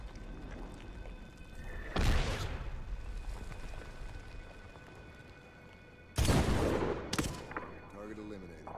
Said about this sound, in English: They're dropping rounds into the tube. Mortar inbound.